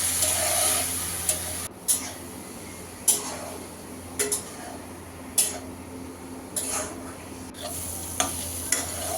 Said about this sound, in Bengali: মটরশুঁটি আর গাজরটা ভেজে নিচ্ছে